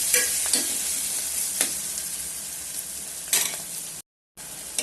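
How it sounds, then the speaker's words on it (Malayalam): Ginger and garlic sauté in a hot pan with a steady sizzle, broken by a few scraping stirs of a spoon and then a brief silent gap. "ഇതിന്റെ പച്ചമണം മാറുന്ന വരെ ഒന്ന് ഇളക്കി കൊടുത്തോണ്ടിരിക്കണം."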